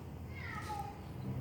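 A single short, faint meow rising and falling over a low background rumble, somewhat distant.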